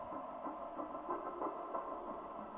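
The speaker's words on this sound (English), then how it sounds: "something that I recorded from my Granular Synthesizer" A dry, steady synthesized texture of grainy, fluttering tones in the mid range, continuous and unprocessed, with no voices.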